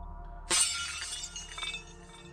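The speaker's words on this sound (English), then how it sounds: "The sound of smashing glass filled the entire chamber." A glass bottle falls and smashes: one sudden, loud, close shatter followed by a spray of tinkling fragments that settle over about two seconds, with no voices.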